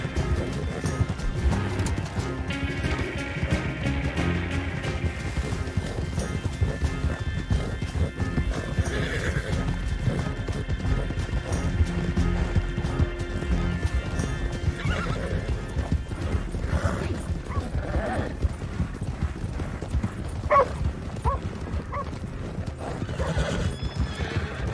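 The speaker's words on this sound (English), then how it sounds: "Get that horse hidden away, Clive, and ready to move out" Steady clip-clop of horse hooves runs throughout in Red Dead Redemption 2 Online, with occasional neighs and whinnies rising above the continuous galloping rhythm.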